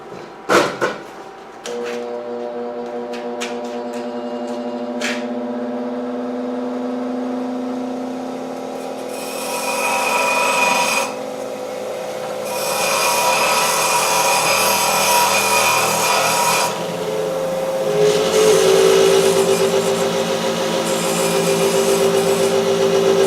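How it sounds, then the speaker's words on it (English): Power grinder grinding a metal part for a lamp made from an old meat grinder, a few sharp clicks, then the motor spins up into a loud sustained whir with grinding bursts as the part is pressed in. "If you lift up, you can see my grinder over there. I'll just give it a quick grind."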